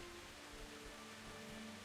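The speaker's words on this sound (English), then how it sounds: "Does it stop raining now?" Rain falls in the medieval video game Kingdom Come: Deliverance, a soft, steady hiss of rainfall, faint and unbroken, with no voices.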